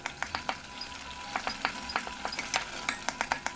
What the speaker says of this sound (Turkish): Gördüğünüz gibi ara ara açıp karıştırıyorum, kontrol ediyorum.